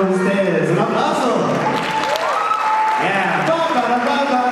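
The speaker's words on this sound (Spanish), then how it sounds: "¡Un aplauso!" Crowd applause at a Juguetes Por Sonrisas toy-drive event with performer Lil June, clapping and cheering beneath loud talking and shouting voices throughout.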